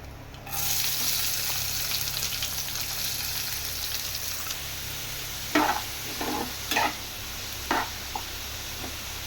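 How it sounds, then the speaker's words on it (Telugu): Onions frying in oil with green chillies and curry leaves for an egg curry, a steady close sizzle throughout with several short scraping stirs of a spoon in the later part. "ఉల్లిపాయ బాగా ఫ్రై అవ్వాలి"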